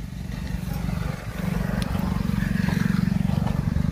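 A Swaraj 744 FE tractor with a multi-speed PTO runs close by, its diesel engine giving a loud, steady low chugging rumble with a brief dip before settling into an even throb.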